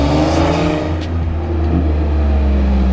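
A BMW M3 heard from outside as it drives, its deep, beefy engine droning loudly and steadily close by, with a slight swell in revs partway through.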